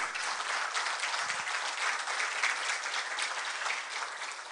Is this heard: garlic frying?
no